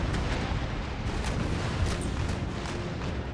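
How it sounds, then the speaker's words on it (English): Ship cannons in a naval battle of Empire Total War roar as a dense, continuous barrage of booms and rumbling fire, loud and unbroken throughout. "That guy's firing shots off onto them."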